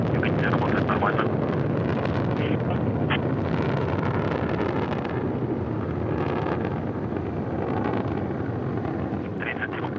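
Soyuz rocket with four boosters and a single engine launching, a steady, dense roar filling the whole clip at a distance, with radio voices talking over it.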